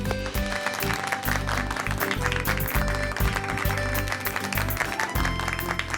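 A dense wash of audience applause follows a Karva Chauth dance performance, with continuous, steady clapping from many hands and no pause.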